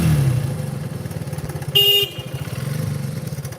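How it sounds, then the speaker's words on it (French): Vintage car horn gives a single short honk, loud and close, over the steady puttering rumble of an idling old engine. "klaxon d'époque."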